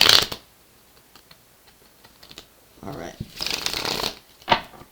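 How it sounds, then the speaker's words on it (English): Tarot cards riffle and slap together in short crisp bursts of shuffling, near and clear, with quiet pauses between, and a single voice speaks briefly. "Just 2 more shuffles to go"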